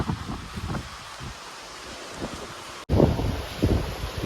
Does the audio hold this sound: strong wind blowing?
yes